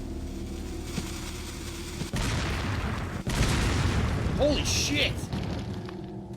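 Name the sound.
chain reaction of explosions in Resident Evil 4 video game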